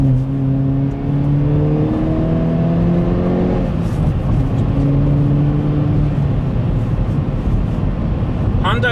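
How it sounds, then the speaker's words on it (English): A 2019 Hyundai Veloster N in sport mode drops through a downshift, its loud engine drone stepping in pitch with revving under steady road noise, and a voice faintly mixed in. "Let's see the downshift into this."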